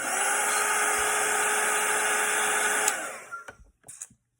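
A hair dryer blows over a Christmas sleigh watercolour painting with a loud, steady whooshing whine. It cuts off near the end and leaves a few soft clicks and handling sounds.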